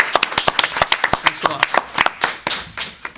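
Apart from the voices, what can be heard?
applause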